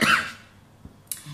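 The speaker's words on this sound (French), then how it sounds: "Pardon pour la toux" A cough at the start, hoarse and fairly close, then two soft, brief thumps in an otherwise quiet room; a single person coughing while apologising for a throat irritation.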